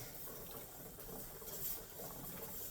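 A pressure canner processing home-canned pinto beans hisses and sizzles underneath, a faint continuous watery bubbling hiss with slight swells, heard alone.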